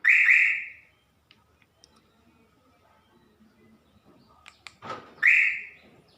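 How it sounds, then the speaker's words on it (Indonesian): A Suzuki Ertiga's car alarm gives two short, loud electronic chirps several seconds apart, with faint clicks and a brief rustle between them. "bisa didengar suara alarm aktif ya"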